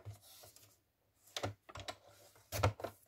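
Paper scraps for a scrapbook album being cut with a cutting tool, a few short crisp strokes and snips close by, separated by brief pauses, with no talking.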